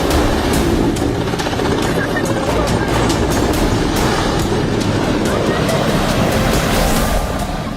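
Loud, continuous rotor thumping and roaring engine noise from a Mexican Navy helicopter losing control and crashing in front of bystanders, with wind rushing and faint voices in the mix.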